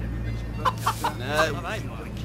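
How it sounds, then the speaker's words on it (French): A tame chicken clucks in a short series of quick clucks ending in a drawn-out squawk, close and fairly clear over a steady low hum. "c'est un poulet apprivoisé"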